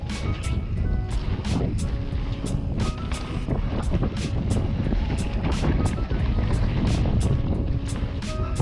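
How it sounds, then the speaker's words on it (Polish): Strong wind buffets the microphone outdoors, a steady loud roar with rhythmic bumps and clatter on top throughout. "Ale wiatr."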